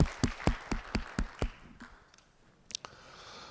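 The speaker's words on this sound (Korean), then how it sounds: "우리 받으신 주님께 감사의 박수." A church congregation claps in a quick, sharp, evenly spaced burst of about seven beats that fades into scattered taps and quiet.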